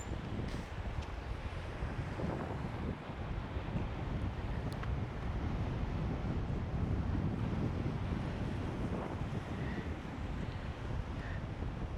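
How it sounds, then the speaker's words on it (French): Strong coastal wind at Barfleur, France buffets the microphone in a constant low roar for the whole stretch, with a faint wash like surf underneath and no voices. "Ah, il y a de nouveau du vent, hein, et pas qu'un peu."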